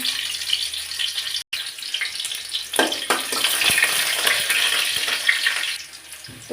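Thickly chopped onions fry in a pan with a bright, steady sizzle, loud and close, with a brief dropout and occasional light stirring taps.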